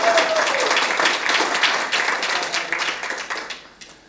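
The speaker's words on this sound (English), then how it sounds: "Give her a clap." A short round of close, lively clapping from a small group that tapers off after a few seconds.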